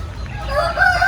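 Close by on a chicken farm, a rooster lets out a loud, drawn-out crow that rises in strength toward the end, over a low murmur of other fowl.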